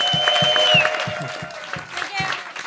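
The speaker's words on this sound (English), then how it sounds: "you can't call for order every time somebody's applauding" An audience claps in quick, dense applause that stays steady and fairly loud, with talk or cheering mixed in underneath.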